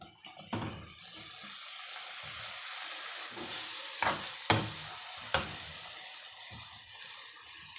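Tomatoes with turmeric and red chilli powder frying in a pan for dhaba-style chana dal, a steady soft sizzle with occasional stirring clanks and scrapes, close and moderately quiet.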